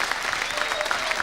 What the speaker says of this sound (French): Alors Sénad, vous pouvez l'applaudir encore une fois.